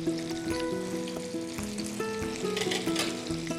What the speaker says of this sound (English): You can start to hear the sizzle